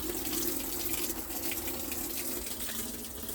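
Water gushes and splashes steadily inside a new Amana washing machine on its rinse cycle, a continuous close rushing sound with no voices.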